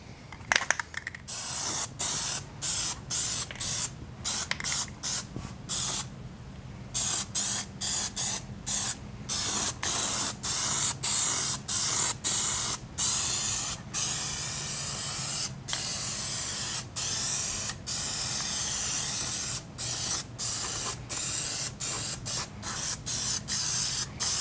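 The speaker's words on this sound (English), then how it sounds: "This looks a lot like spray paint." Short bursts of spray paint hissing onto a punch-style LARP buckler, dozens of quick pulses with brief gaps, close and steady in loudness, no voices.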